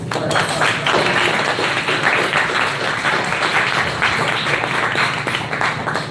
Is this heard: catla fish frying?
no